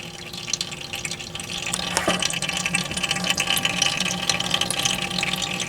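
Water trickles and drips steadily out of wet clay slurry extracted from dirt into a bucket below, a continuous close splashing patter with no voices.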